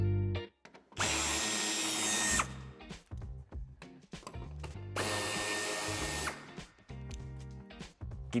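A power tool whirs in two long bursts, removing a bumper screw on a 2012–2014 BMW 3 Series GT (F34), with clattering handling noises and short clicks between runs, close and fairly loud.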